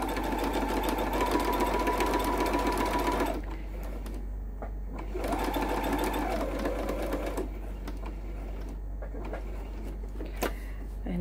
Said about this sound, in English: Lift our presser foot up, and then stitch.